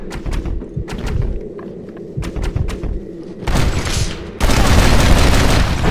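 Rapid gunfire in Red Dead Redemption during a shootout, repeated sharp shots crackling close and loud, building into a dense sustained barrage toward the end.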